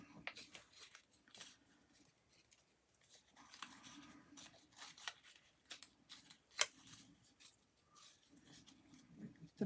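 Thin scrap paper torn by hand for journal pages, several quiet ripping strokes in short bursts with soft rustling and handling noises between them, close and faint.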